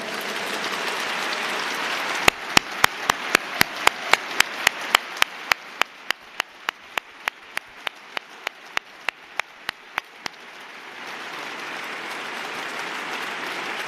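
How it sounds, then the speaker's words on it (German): A large audience at the Leipzig Book Fair prize ceremony in a glass-roofed hall gives sustained, dense applause for the nominees. A rapid series of sharp, evenly spaced clicks runs through the middle of the clapping. "senden Sie mit mir für alle Nominierten einen donnernden Applaus und das Glashallendach"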